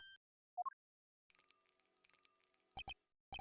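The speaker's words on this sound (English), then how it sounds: "Is that a bell around its neck? Explains the sound, I suppose." A bell on a dog's collar tinkles in the Ace Attorney Investigations 2 video game, bright metallic rings in short bursts over a faint background tone.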